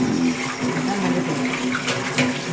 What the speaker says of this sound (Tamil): நல்லா மஞ்சத்தூள் உப்புலாம் போட்டு கழுவிட்டேன்